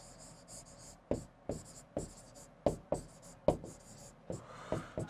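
Chalk or marker strokes on a board during a maths lesson, a series of short sharp taps and scrapes in uneven rhythm, close and fairly quiet, with no talking.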